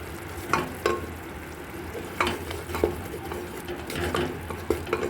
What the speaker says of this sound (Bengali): নাড়িয়ে দিচ্ছি